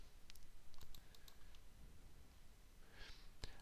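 Faint, scattered key clicks from a computer keyboard during Python coding, a few soft taps spread out under low background hiss with a quiet breath.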